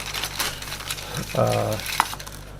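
A big plastic bag from a model kit box is handled and crinkled close up, with a short burst of rustling in the middle and a small tap near the end.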